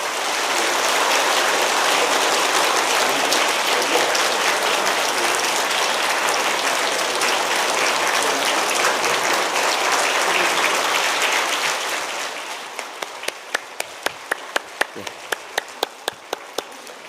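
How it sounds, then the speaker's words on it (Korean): A church congregation at a Sunday worship service applauds in a thick, sustained roar of clapping that fades after about twelve seconds, leaving a few scattered, sharp individual claps trailing off. "우리 뜨거운 박수로 축하하고 격려하십시다."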